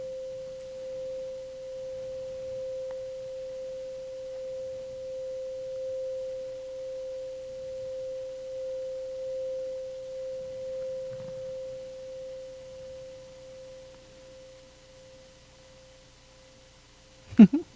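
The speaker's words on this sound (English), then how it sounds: "As that sound fades away. I love the singing bowl." A singing bowl rings with a single steady, pure tone that sustains and slowly fades for many seconds, faint and alone, ending with a sharp knock.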